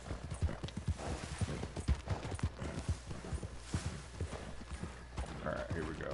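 A horse's hooves clip-clop in quick, steady trotting beats in a video game, close and clear, while a person talks over the sound.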